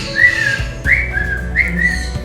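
A person whistles in imitation of a galah, the pink cockatoo's morning call: three rising-then-level clear whistles, loud and close, with low background hum and no talk.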